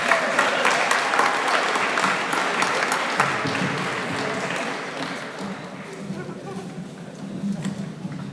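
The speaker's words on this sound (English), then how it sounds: "one more round of applause for Robin" An audience at a hackathon final demo session applauds, a dense continuous wash of clapping that slowly thins out over several seconds, with some voices mixed in.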